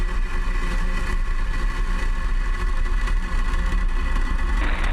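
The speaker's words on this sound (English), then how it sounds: "Ignition. Engines full power. And liftoff of Starlink." Falcon rocket engines roar at a Starlink launch liftoff, a loud, continuous broadband rumble sustained without break throughout.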